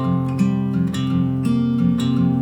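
An acoustic guitar plays the first chord of a worship song, strummed in a loose rhythm of four or five close, ringing strokes with no talk over it.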